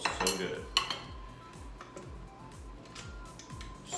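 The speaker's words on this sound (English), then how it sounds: "Stir that, mix that up." A spoon stirs fruitcake batter of heavy whipping cream with lemon and orange zest in a mixing bowl, giving a run of close, rhythmic scraping and clinking strokes against the bowl, with no talking.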